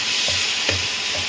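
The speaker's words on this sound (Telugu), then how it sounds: "చూసారా నూనెలో ఎంత బాగా ఏగుతుందో." Tomato chutney fries in hot oil with a steady, close sizzle and hiss, broken by a few soft stirring scrapes.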